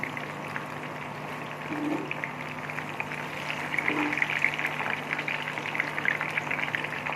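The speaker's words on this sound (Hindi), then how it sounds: "ये दोनों साइड से अच्छी तरह से फ्राई हो चुके हैं" Chicken hot wings sizzle in a pan of oil over medium-low flame, a steady close crackle and hiss running throughout with occasional louder pops.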